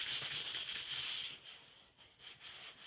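Steady hand sanding with 500-grit wet or dry sandpaper over flexible filler, a continuous close scratchy rubbing in quick back-and-forth strokes, with no voices.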